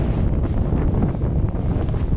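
Strong wind buffets the microphone on an exposed, rainy hillside below Hay Bluff, a steady loud low rumble and roar with gusty swells and no voices throughout.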